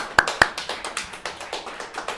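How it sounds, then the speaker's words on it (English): Sparse, scattered handclaps from a small group, a couple of sharp claps up front then lighter patting that continues steadily. "Can we have an applause?"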